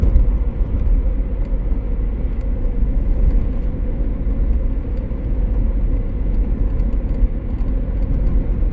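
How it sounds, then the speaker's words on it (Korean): Morning road traffic in rural Nara, Japan, with a steady, close, low rumble of cars passing throughout and no voices. "근데도 확실히 차량 양이 꽤 많아요."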